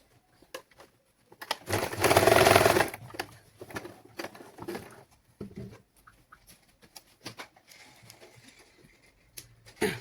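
A sewing machine stitches a cloth baby langot, running in one short, loud whirring burst of about a second and a half, followed by scattered soft clicks and handling noises.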